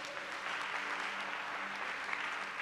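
A church congregation applauds steadily and densely throughout, with a continuous wash of clapping from many hands and no break.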